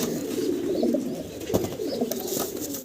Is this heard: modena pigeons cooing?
yes